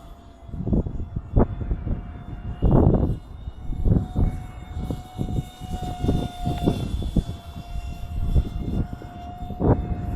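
An FX9631 RC airplane flies overhead on a windy afternoon, its thin, steady motor whine faint and distant beneath repeated loud bursts of wind buffeting, with no talking.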